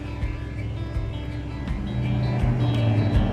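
A 2012 Chevy Equinox engine idles nearby with a steady low rumble, holding continuous and even for about three seconds, without speech over it.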